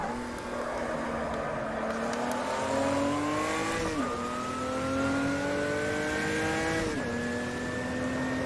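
Opala Stock Car from 1986 in the Automobilista racing game, engine whining loud and steady with two abrupt stumbles where a missed shift grinds the gearbox before the revs climb again, no talk.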